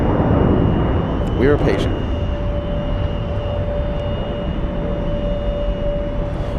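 A jet airliner climbs away after takeoff at JFK, its engine roar a steady, fairly loud rumble throughout, with a voice briefly talking over it early on.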